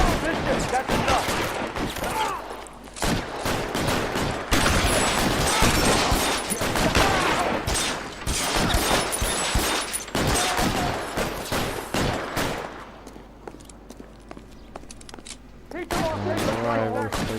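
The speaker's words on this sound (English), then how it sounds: "Shoot those sons of bitches." Sustained shootout gunfire in the video game L.A. Noire, dense volleys of rapid shots and bursts, loud and close, with brief pauses and voices talking amid the firing.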